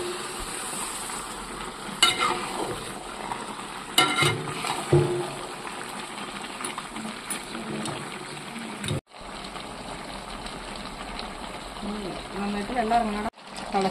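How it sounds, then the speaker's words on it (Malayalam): Chicken curry bubbling and simmering in a pan makes a steady close sizzle with occasional stirring scrapes, while a person talks throughout. "തിളച്ച് വെള്ളമൊക്കെ ഇറങ്ങി വന്നിട്ടുണ്ട് ചിക്കനിൽ"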